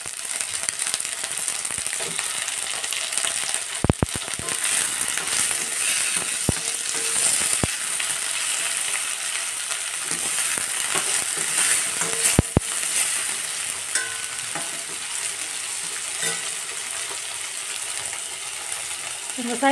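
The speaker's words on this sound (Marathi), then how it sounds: "आता यातच आपण कांदा हे सर्व साहित्य छानपैकी फ्राय करणार ना. टोमॅटो हे छानपैकी फ्राय करणार." Onion, tomato and spices frying in a pan for paneer masala, giving a steady bright sizzle throughout, with a few sharp clinks of a spoon against the pan and a low background hum.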